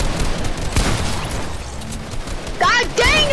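Shotgun blasts in the Fortnite video game, loud booming bursts against a busy game background, with a couple of distinct shots and some whistling effects near the end.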